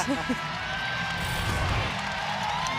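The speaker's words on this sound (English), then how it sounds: "Cochran gets a warm applause as she steps off the floor." Warm applause and cheering from a crowd at a women's college basketball game as a senior player steps off the court, a steady dense roar of clapping under a commentator's voice.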